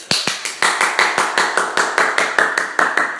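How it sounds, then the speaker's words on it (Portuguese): Rhythmic clapping greets Nando Gonçalves at a live show: sharp, evenly spaced claps about four per second, close and fairly loud, continuing steadily with no talk over them. "uma salva de aplausos para ele"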